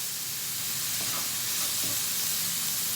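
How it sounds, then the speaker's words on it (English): Chopped carrot and capsicum sautéing in a pan with salt, a steady bright sizzle and hiss running unbroken throughout, close and fairly loud, with faint stirring scrapes underneath. "Let us saute this for a few minutes."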